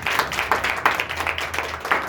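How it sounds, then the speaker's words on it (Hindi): A church congregation claps and applauds, a short burst of rhythmic hand claps from a crowd indoors, moderately loud. "जोरदार ताली देंगे।"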